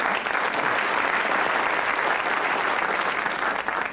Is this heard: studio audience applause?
yes